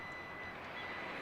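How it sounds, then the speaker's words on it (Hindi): Obstacle warning from a Tata Harrier's powered tailgate: a steady, close electronic beep tone that holds for just over a second. "अभी इसने 2 बार नोटिफिकेशन दिया कि पीछे से हट जाओ"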